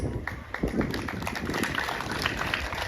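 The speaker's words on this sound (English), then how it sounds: "May I have another round of applause?" An audience applauds at a groundbreaking ceremony for new school buildings, with dense, steady clapping that holds throughout the clip.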